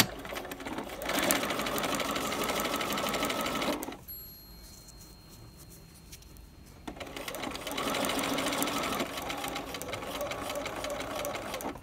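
A sewing machine stitches piping onto a corner at a 3.0 stitch length, running loud and steady, pausing for about three seconds, then starting up again.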